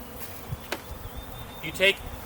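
Package of honey bees set out for hive installation, giving a soft insect buzz under faint room noise with a brief whine near the end.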